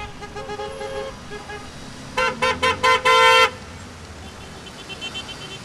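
A motorcade of cars flying Ukrainian flags drives through Kropyvnytskyi, honking, with a distant horn early on, then a close burst of five rhythmic blasts ending in a longer one, over steady traffic noise.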